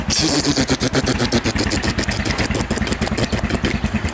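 A motorcycle engine fitted with a DG O Series aftermarket exhaust idles close by with a rapid, lumpy pulsing exhaust note, steady and loud throughout.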